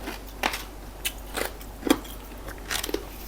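Crunchy bites and chewing of a spicy-sour star gooseberry salad with crispy fish, several sharp crackling crunches spaced irregularly, close and fairly quiet with no talking.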